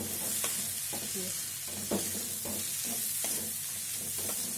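Chana dal stirred briskly and roasting in a pan over a medium flame, a continuous dry sizzle with repeated scraping spoon strokes against the pan, close and steady with no voices.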